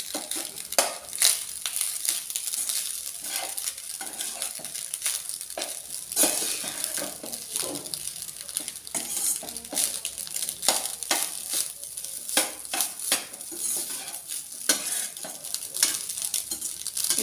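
Spoon stirring chili powder through rice in a pan, a steady run of scraping, rustling strokes over a light sizzle, with no talking.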